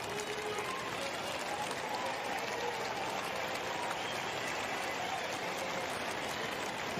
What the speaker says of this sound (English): First time the crowd have actually lost their discipline.